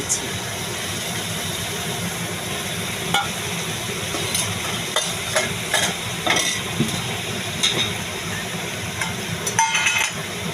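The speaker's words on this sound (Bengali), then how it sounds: "এবার আমি বাকি পেস্টটা দিয়ে" Spice paste frying in a pan for doi rui, a steady loud sizzle with scattered sharp spatters and utensil scrapes rising over a low background rumble.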